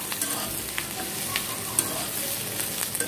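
Chopped onion, garlic and green chilli lightly frying in oil for a dried chepa shutki fish bharta, giving a steady close sizzle with scattered soft clicks of stirring throughout.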